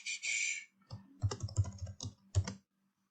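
Keystrokes on a computer keyboard while naming a file, a quick run of close clicks in short clusters, then silence at the end.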